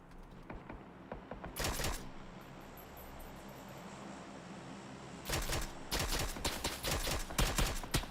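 Video game gunfire in short loud bursts of rapid shots, one near the start and several more toward the end, separated by a quieter stretch of ambient hiss.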